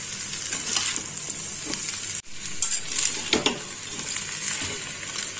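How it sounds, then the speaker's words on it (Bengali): Pesto pasta being stirred in a pan with grated parmesan: a soft, continuous sizzle runs under scraping, clinking spoon strokes against the metal pan, close by, with a brief pause midway. "চিজটাকেও ভালো করে মিশিয়ে নেব।"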